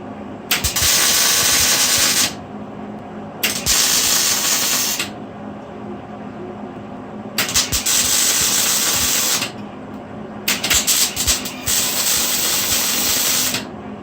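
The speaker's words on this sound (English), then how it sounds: "So we're gonna weld it." Welding onto a mini bike hub, fixing a sprocket in place, comes as four loud crackling bursts of a few seconds each, separated by quieter gaps with a low background hum.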